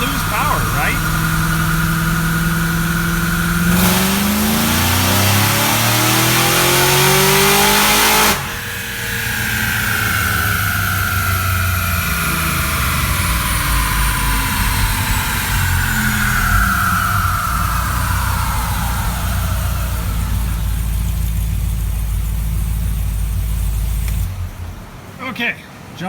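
Supercharged Cadillac CTS-V with a Roots blower on a dyno, its engine droning loud and close as revs climb and fall with whine-like rising tones, a voice talking over the run before it cuts off near the end.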